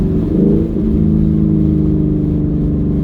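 A 2019 Mustang GT with an AWE Touring cat-back exhaust revs under light throttle, giving a loud, steady, close-up low engine drone with a brief swell near the start and no talking.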